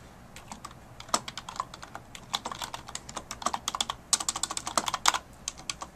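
Steady, fairly close typing on a computer keyboard while a property address and zip code are entered, with quick irregular key clicks in bursts and no voices.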